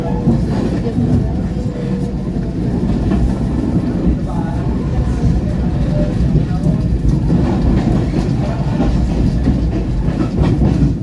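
A Pangrango passenger train rumbles along the rails with a steady low roar and faint rhythmic clatter, heard from inside the carriage.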